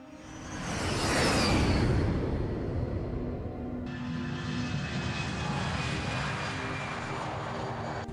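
A jet airliner takes off at night, its engines roaring loud and steady with a broad rushing whoosh and a rising whine that holds for several seconds.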